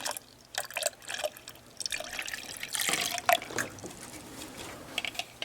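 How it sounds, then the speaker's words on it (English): Distilled water poured into a small container for a pH meter, heard as close, irregular splashes and trickles with a steadier pouring stretch in the middle and no talking. "Here's some distilled water. Pour this in the"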